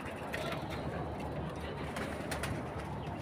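Soft pigeon cooing in a low, steady murmur over a constant noisy background, with faint chirps scattered through it.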